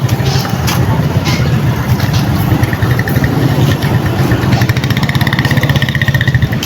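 A motorcycle engine idling steadily nearby in a Pangasinan street, its low rumble continuous and loud throughout, with faint voices and background street noise mixed in.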